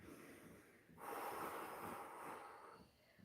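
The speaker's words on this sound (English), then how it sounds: "Breathe." One strong breath, a rushing inhale-exhale lasting under two seconds during a Pilates session for divers, is close and clear against a faint quiet room, with no talk.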